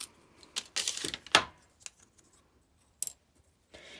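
Scissors snip through popsicle sticks in a few quick, close cuts for a craft wall decoration, with sharp crunchy bursts near the start followed by quieter gaps and a last snip.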